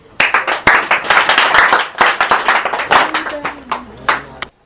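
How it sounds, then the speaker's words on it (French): An audience at a morning broadcast program claps for themselves, bursting into brisk, close applause that thins into a few scattered claps before stopping. "Applaudissez-vous vous-même."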